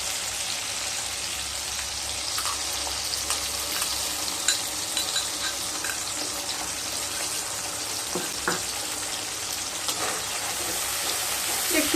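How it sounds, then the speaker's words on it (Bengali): Spices and tomatoes frying in a pan are stirred through a steady close-up sizzle, with occasional scraping and clinking of the spoon and no voices. "একটু নেড়ে নিলাম।"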